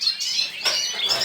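Goldfinches and canaries chirp and twitter continuously in a breeding aviary, a dense, close chorus of high, bright overlapping calls with no talking.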